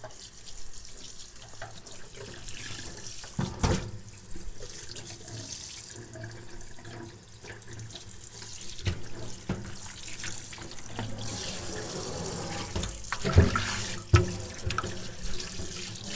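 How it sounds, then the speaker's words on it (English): A kitchen tap runs steadily while a raw pork shoulder is rinsed under it to wash off blood, the water splashing and spattering irregularly as the meat is handled, close and continuous for the whole stretch. "take this out of the package and rinse all of the blood and all that off of it"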